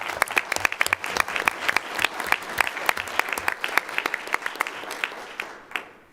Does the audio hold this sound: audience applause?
yes